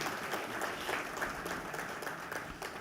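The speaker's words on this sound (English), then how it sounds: "let us have a round of applause for VM Group" Audience applause for sponsors at an evening distinguished lecture, a steady, moderately loud patter of many hands clapping through the whole short stretch.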